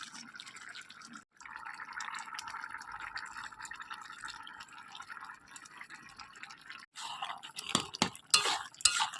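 A spoon scrapes and stirs pointed gourd and shrimp curry in a pan, a soft continuous bubbling and clinking with a few louder metallic knocks toward the end, no voices.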